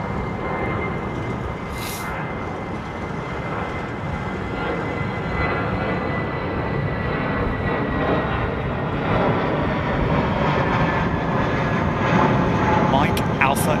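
A steady, broad roar of an airliner's engines at London Heathrow Airport swells slowly over about fourteen seconds, loud and continuous, while people chat over it.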